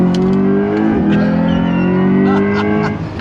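A 2024 Corvette C8 E-Ray hybrid sports car accelerates hard on throttle out of a corner, a loud, sustained engine roar rising in pitch with a brief shift-like dip partway through.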